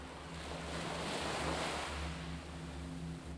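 Waves roll onto a beach shore in a continuous soft wash of surf, swelling gently in the middle, with a steady low rumble beneath and no voices.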